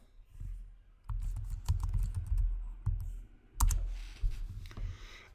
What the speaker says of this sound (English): I'll type in Microsoft Teams here